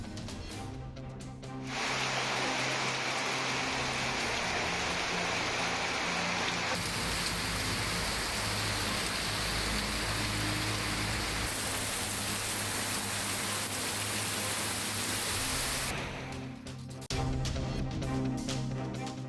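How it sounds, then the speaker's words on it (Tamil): Heavy summer rain pours down steadily in Tamil Nadu, a dense, loud, continuous hiss of drops on surfaces lasting throughout with no voices. "சேலம், திருச்சி, மதுரை, திண்டுக்கல் உட்பட தமிழ்நாட்டின் பல்வேறு மாவட்டங்களிலும் வெளுத்து வாங்கிய மழை"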